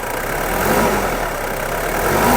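An old Mitsubishi Pajero engine is revved close by. A steady, loud mechanical roar swells slightly toward the end, with no talk.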